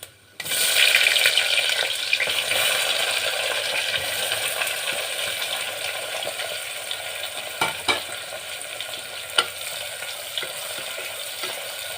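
Green chillies and onions hit hot oil already frying cumin seeds, bursting into a loud, steady sizzle close by that slowly settles, with a few sharp clinks from stirring and no talk.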